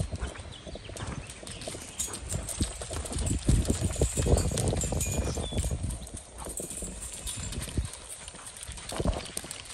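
Hooves of a gaited horse during a riding and training session, heard first walking and then cantering, with rhythmic clip-clop beats that are fairly close and fall at an irregular pace, over a faint background of outdoor noise.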